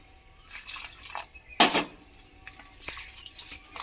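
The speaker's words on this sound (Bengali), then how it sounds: "এবার আমি এখানে অল্প অল্প জল দেব।" Water poured a little at a time into flour batter for breakfast, with drips and splashes and a sharp clink of a utensil against a bowl near the middle, among quieter kitchen clatter.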